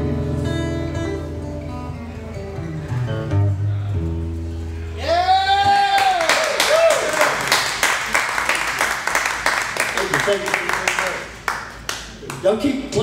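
An audience at a live blues performance breaks into loud sustained clapping and cheering after music fades, while someone speaks briefly over the applause.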